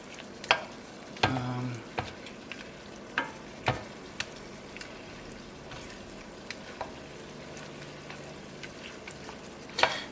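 Spaghetti all'assassina frying in a pan with starchy broth, a low steady sizzle broken by sharp scrapes and clicks as a wooden spatula stirs, close and without talking.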